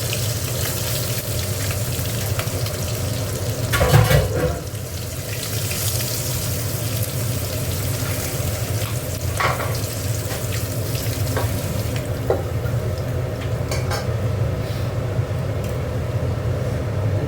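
Potatoes fry in hot oil in a pan after fish for a tangra fish curry, giving a continuous close sizzle with occasional louder stirring scrapes and bursts, and no voices.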